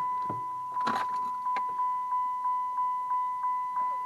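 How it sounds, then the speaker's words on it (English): A 2008 Dodge Avenger chimes its warning in a regular series of short, even beeps, close and steady, after a few clicks and rustles at the start. "Sorry for the beeping."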